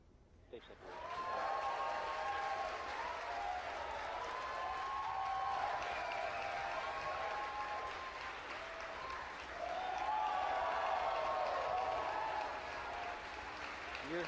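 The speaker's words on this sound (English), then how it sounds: "You hear the cheering." Crowd cheering and applauding in a SpaceX launch control room after upper stage ignition, a sustained, moderately distant roar of clapping and whoops building over a couple of seconds and swelling again near the end, with voices mixed in.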